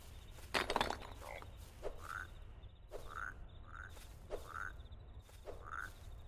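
Frogs croaking in a video game, a steady series of short rising croaks repeating about once a second over a faint ambient bed, with one louder clattering burst near the start.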